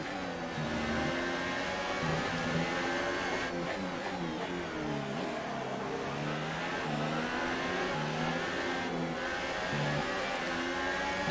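A Ferrari Formula 1 car engine in a racing game, screaming at high revs through repeated rising and falling gear changes, loud and steady throughout with no talk.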